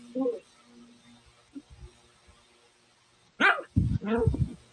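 A dog lets out short barks and yips, a few soft ones early and then a louder burst of several close barks near the end.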